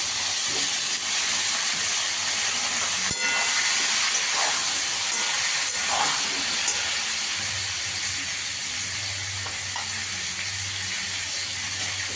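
Pieces of pointed gourd (potol) frying in oil, a continuous loud hissing sizzle held close and even throughout, with faint soft clatter and no talk.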